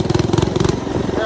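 Mini bike engine revved with a thumb throttle, close and loud, giving a fast rhythmic throbbing pulse through the short burst.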